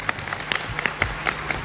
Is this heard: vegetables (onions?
no